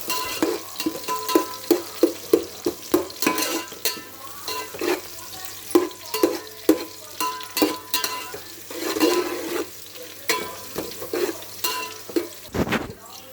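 Frying in a pan for pulao, with rhythmic sharp scrapes and clinks of a spoon stirring against the pan over a soft sizzle, repeated close and clear throughout with no speech.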